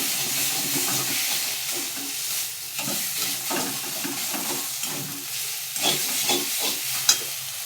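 Banana flower and potato mix frying in a wok, a steady sizzle under repeated scraping strokes of a spatula stirring it close by.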